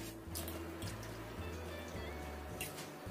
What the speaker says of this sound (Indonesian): Kemudian kita tambahkan air sekitar 4 sendok makan.